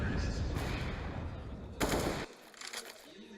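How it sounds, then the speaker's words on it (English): Rapid automatic rifle fire in Counter-Strike: Global Offensive during a professional Inferno match, loud bursts over dense crowd and caster noise, with a sharp burst near the end before the sound drops off. "not an easy shot against Device, but he is kind of low HP"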